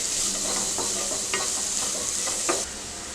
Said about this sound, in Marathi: कैरी किसून घेतली आहे. चांगलं परतून घेऊया.